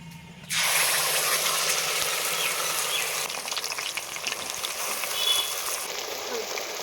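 Ground onion and cumin paste lands in hot oil in a wok and sets off a sudden loud, bright sizzle that holds steady and close for several seconds and thins a little toward the end.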